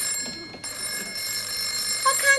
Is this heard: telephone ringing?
yes